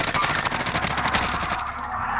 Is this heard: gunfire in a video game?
yes